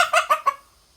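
A rooster clucks four times in quick succession, close and fairly loud, then goes quiet.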